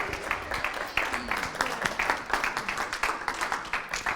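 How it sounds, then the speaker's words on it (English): A small audience applauds at a training event as a volunteer is called up, a steady patter of claps at moderate distance, with a voice cutting in now and then. "Give her a big round of applause"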